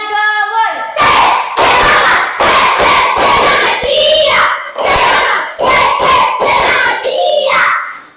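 A group of children performs a rhythmic clapping chant, tepuk semangat, with loud sharp bursts of claps in a quick pattern alternating with short shouted chanted phrases, close and energetic.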